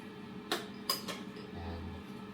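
Utensil clinks against a bowl while stirring brown sugar into a marinade for air-fried crispy pata, two or three sharp taps followed by quieter mixing, close and isolated.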